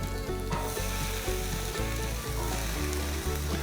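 Peppers sizzle on a Blackstone flat-top griddle for a Denver omelette, a steady close frying hiss under a loud rhythmic musical backing with no voices.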